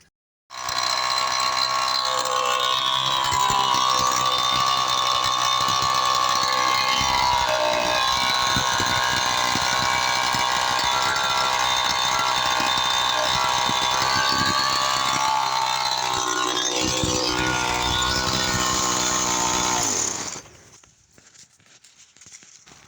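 A homemade hybrid engine runs steadily with a loud, continuous mechanical whir and ratcheting, gear-like clatter for about twenty seconds, then cuts off abruptly into near silence.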